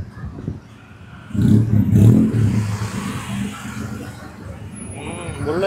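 A tuk tuk in Thailand revs its engine in a loud, throaty burst, then settles into a steady running drone with people talking nearby.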